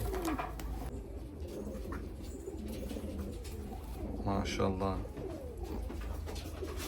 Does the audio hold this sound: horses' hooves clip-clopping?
no